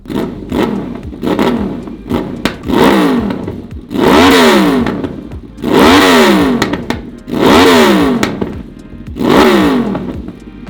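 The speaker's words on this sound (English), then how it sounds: "It's a V4 engine, so this thing sounds mean." A Honda V4 VTEC motorcycle engine on a CBR/VFR 800 hybrid build, revved hard in about six loud, rising and falling bursts with brief dips between them, close up with no talking.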